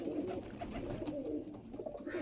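Young Star Kalanka pigeons coo softly in a cage, a low, steady burbling murmur that continues throughout with no talking.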